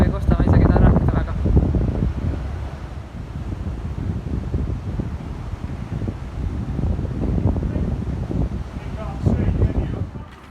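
Strong wind buffets a microphone on a village walk, a continuous roaring rush rising and falling in gusts, loud and close.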